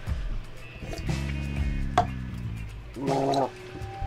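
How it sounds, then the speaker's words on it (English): A man gargles, with a bubbling, throaty gurgle in two bursts separated by a short pause, close and fairly loud. "I gotta fucking keep gargling"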